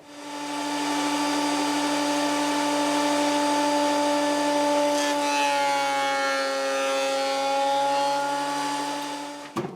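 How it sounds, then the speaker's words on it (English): A planer thicknesser milling wood for a guitar body, running as a loud, steady machine whine with strong tonal hum throughout, a brief shift in pitch midway as the board passes, then spinning down at the end. "So planer thicknesser and more jointing and milling."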